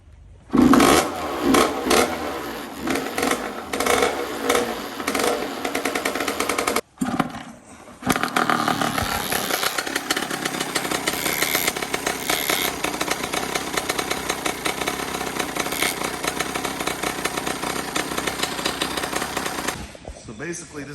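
A Honda CR80R two-stroke dirt bike engine revs hard nearby, a raspy buzzing roar that cuts out briefly, restarts and keeps ripping at high revs before dropping off at the end.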